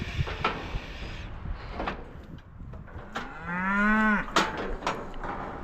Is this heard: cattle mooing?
yes